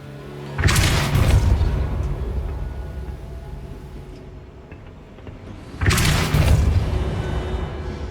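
A Depulso spell blast in the video game Hogwarts Legacy: two loud booming bursts, one near the start and another around six seconds, each with a sharp onset and a long rumbling decay.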